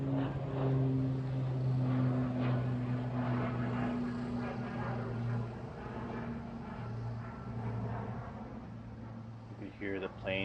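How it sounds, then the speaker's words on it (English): Propeller aircraft passing overhead during a wildfire, a steady droning engine hum holding for several seconds and slowly fading, with a voice talking over it. "You could hear the planes going over"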